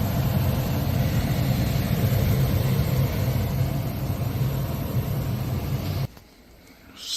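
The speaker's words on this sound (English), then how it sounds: "Blower is on." An HVAC unit blower running: a loud, steady, low rumbling whoosh that holds for several seconds and then cuts off sharply near the end.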